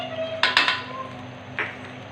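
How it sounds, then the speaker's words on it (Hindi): A spoon stirs mutton karahi in a pot after water and ginger garlic paste go in, producing a few clear metallic clanks close by over a steady low background hum. "Mix it properly."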